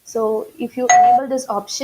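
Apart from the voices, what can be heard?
raise-hand notification sound like a doorbell in meeting software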